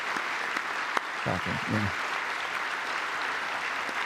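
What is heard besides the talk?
Democrats applauding during presidential address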